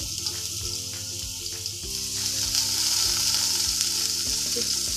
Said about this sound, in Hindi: पैन में हम थोड़ा सा ऑयल डालेंगे इसको प्रॉपरली गर्म करके फ्लेम नॉर्मल करेंगे आप स्टिक्स इसके अंदर रख देंगे